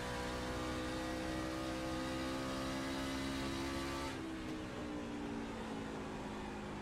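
A racing truck engine drones at high revs in the iRacing sim, loud and constant with a steady harmonic tone that dips slightly as the truck lifts, under continuous track noise.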